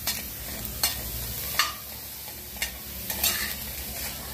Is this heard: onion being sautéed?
yes